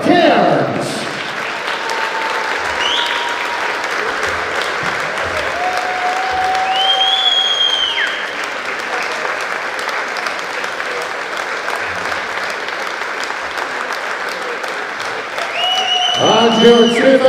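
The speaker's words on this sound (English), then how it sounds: "a massive round of applause, first of all, for your finalist, Eleanor Cairns" A darts festival crowd gives sustained applause for a girls' open finalist, steady clapping throughout with a louder swell at the start and again near the end, and an announcer's voice briefly heard over it.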